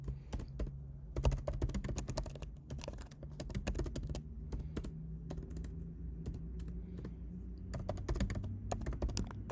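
Steady close-up typing of C++ code on a computer keyboard, with dense irregular runs of key clicks broken by brief pauses over several seconds and no voices.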